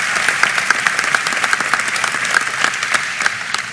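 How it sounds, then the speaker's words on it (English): A large crowd at a high school graduation ceremony applauds the faculty and staff, with sustained, loud clapping from many hands and a few sharper individual claps standing out along the way. "I'd like to give a shout out and a big round of applause to all the faculty and staff from George Bush High School"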